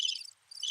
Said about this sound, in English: That might have been Crickets.